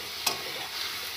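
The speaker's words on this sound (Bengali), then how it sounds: "আদা বাটা, হলুদ গুঁড়ো, লঙ্কার গুঁড়ো, জিরের গুঁড়ো দিয়ে খুব ভালো করে আমি মশলাটা কষিয়ে নেব" Spice paste of ginger, turmeric, chilli and cumin fries in a pan with a steady soft sizzle, and one brief scrape of stirring stands out near the start.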